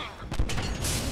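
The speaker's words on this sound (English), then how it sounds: "Now I have a machine gun." Rapid machine gun fire in the Deadpool video game, a short dense burst of loud overlapping shots with mechanical clatter, a voice briefly under it.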